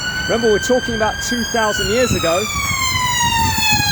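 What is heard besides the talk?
London ambulance siren passing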